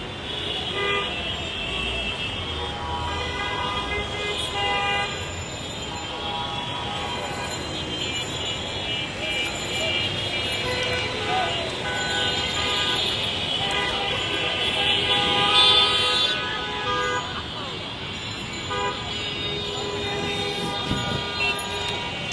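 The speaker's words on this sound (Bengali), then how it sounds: "যানজট দেখতে পাচ্ছি আমরা।" Horns tooting repeatedly in a heavy Dhaka traffic jam on the road from Bangla Motor toward Shahbag, layered over a steady roar of idling and crawling vehicles, with speech faintly mixed in.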